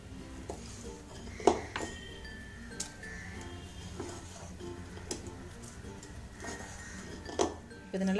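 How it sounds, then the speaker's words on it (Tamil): Vermicelli is stirred into beaten eggs in a bowl, with irregular clinks and taps of a utensil against the bowl over a soft mixing rustle, close and moderately loud. "இப்போ இதை நல்லா கலந்து விட்டுடலாம் அந்த முட்டையில்."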